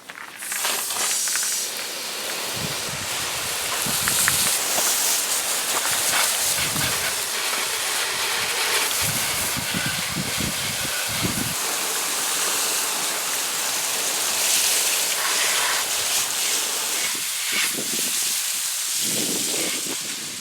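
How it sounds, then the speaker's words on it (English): Steady broadband spray of water from a hose rinsing degreaser cleaner off a Honda motorcycle, loud and continuous with a few low splashing bursts throughout. "now we're going to take and rinse this thing off again"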